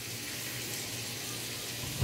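Water runs steadily from a tap into a pot for soup in a home kitchen, a soft continuous rushing stream with no talking over it.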